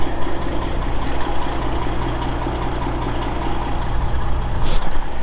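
A 2000 Freightliner Classic XL truck with a Detroit Diesel 12.7 engine idles with a steady low rumble, and a sharp hiss of air rises near the end as the air suspension vents.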